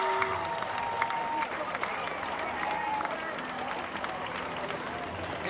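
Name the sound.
crowd applause at a parade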